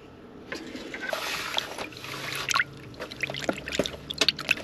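A fork mixes sourdough starter with water in a bowl, giving wet, liquid clicks and sloshes in irregular bursts, close and moderately loud, with brief taps of metal against the bowl.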